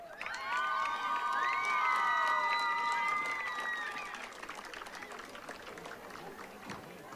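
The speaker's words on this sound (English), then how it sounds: "Let's give a big round of applause to Prince Corbin Keys and Princess Rita Escalera." A crowd applauds and cheers for the royal court at a high school football homecoming, Eastmont vs Moses Lake. Clapping and raised voices swell loudly over the first four seconds, then thin to a softer, scattered murmur.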